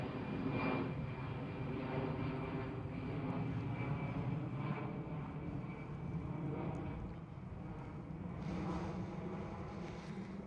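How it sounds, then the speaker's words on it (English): An Airbus A319 in Star Alliance livery takes off at Amsterdam Schiphol, giving a steady, broad engine roar that holds for the whole stretch at moderate distance, continuous and without breaks. "It looks like an A319 with the Star Alliance livery. So I bet it must be Lufthansa."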